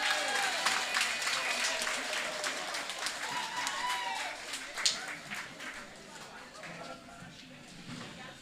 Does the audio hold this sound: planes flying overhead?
no